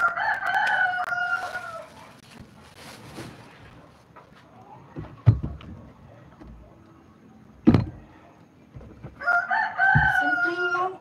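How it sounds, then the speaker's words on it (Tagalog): Two roosters crow nearby, one at the start and another near the end, with sharp knocks and scattered clucking in between. "Mga manok."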